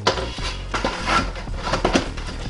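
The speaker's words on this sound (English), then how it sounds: "Put my lid back on." A grill lid is set back onto a NuWave Primo grill during a slow pork-shoulder cook, making a few clanking metal knocks and scrapes spread over a couple of seconds, close and moderately loud, with no talking.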